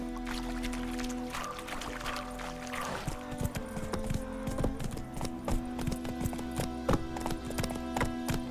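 Roach, the horse in The Witcher 3, sets off into a gallop, rhythmic hoof clip-clops thudding steadily over a low ambient drone, close and clear with no speech.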